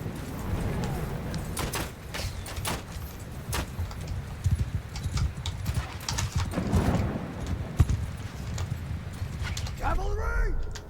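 Cavalry horses gallop in Mount & Blade II: Bannerlord, with dense, continuous clip-clop hoofbeats and occasional whinnies, under loud shouted battle commands.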